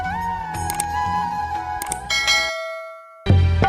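A bell sound effect for a subscribe bell icon rings out in clear chiming tones over a short sequence of ticks and clicks, ending in a sudden silence and a louder burst.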